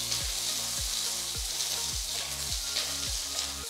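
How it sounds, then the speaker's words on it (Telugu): Green chillies frying in oil in a kadai over low flame, a continuous close sizzle overlaid by a repeating low bubbling gurgle that pulses roughly every half second, no voices. "లో ఫ్లేమ్ లో పెట్టుకొని పచ్చిమిరపకాయల్ని వేయించుకుందాం"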